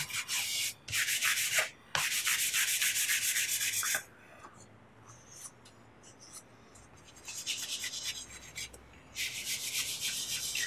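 Rubbing ceruse finish into the open pores of an ash guitar body blank: several loud bursts of steady, scratchy rubbing strokes, close up, separated by quieter pauses with no talk.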